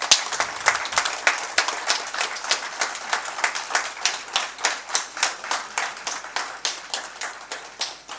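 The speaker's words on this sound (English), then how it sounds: "A big round of applause for TechGM, please." An audience at a college tech event finale claps in rhythm, loud and close, with crisp regular beats about every third of a second that hold steady throughout, no talking.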